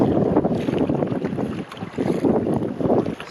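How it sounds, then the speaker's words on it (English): Kayak paddling in lake waves among the Apostle Islands near Bayfield on Lake Superior, with rhythmic swells of water and paddle strokes under heavy gusting wind noise on the microphone. "This is Julian paddling in the waves"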